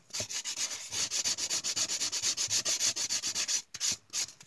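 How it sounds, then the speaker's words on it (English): An old sponge nail file rubbing along the edge of a board, coarse grit scraping in steady rapid back-and-forth strokes, close and fairly loud, with no talking. "this is just an old, like a sponge nail file. Go along and just kind of file it off."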